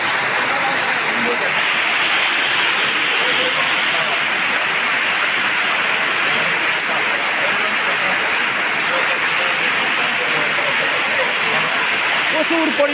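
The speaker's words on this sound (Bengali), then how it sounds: "প্রচুর বৃষ্টি হচ্ছে, আপনারা লক্ষ্য করুন এবং দেখুন।" Heavy monsoon downpour over a rose garden in Mirpur, Kushtia, a dense, loud and unbroken hiss of rain pouring steadily throughout with no breaks.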